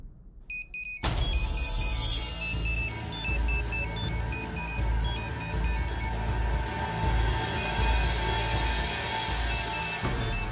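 In a Telugu TV serial scene, an electronic phone ringtone plays repeatedly with beeping tones over a steady low hum, loud and close throughout.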